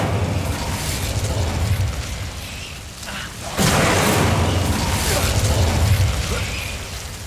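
A spell burst from Hogwarts Legacy: a fire charm ignites with a loud whooshing boom about halfway through, over steady rumbling game ambience, and the blaze roars on afterward.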